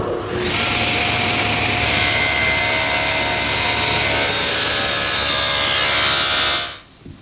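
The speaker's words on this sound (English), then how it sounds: "I've tilted the table saw blade to 30 degrees and adjusted the rip fence for the correct height." A table saw with its blade tilted to 30 degrees cuts a bevel through plywood for a doll house roof, giving a loud, steady, close whine that holds for several seconds before cutting off abruptly.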